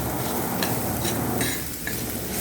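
Peas cooking in a pan with garam masala, salt and red chili, a steady close sizzle with a few soft scrapes of stirring, no voices.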